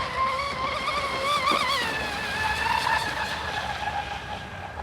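A small RC boat's electric motor runs at full throttle through a turn, giving a steady high whine that bends in pitch as it turns, fairly close and alone.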